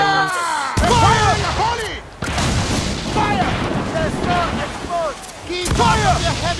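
Side cannons fire from a ship in Assassin's Creed 4 Black Flag, sharp booms striking near the start and again midway over a busy, rumbling battle din with shouting voices mixed in.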